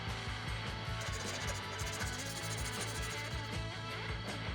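Hard wax is cut and filed by hand to sculpt a Chainsaw Man figure, giving quick repetitive rasping strokes in a steady rhythm, close and fairly soft.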